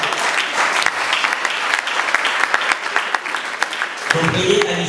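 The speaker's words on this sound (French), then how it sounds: "Est-ce qu'on peut applaudir pour elle aussi?" Audience at a French-language training session applauds for the secretary Gisèle, dense sustained clapping from many hands filling the room, loud and close, with a voice coming in near the end.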